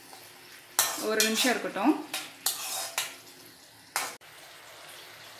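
Paneer manchurian gravy being stirred in a kitchen pan, with a few scraping, clattering strokes and a faint sizzle between them, close by and moderately loud, and a short bit of speech near the start.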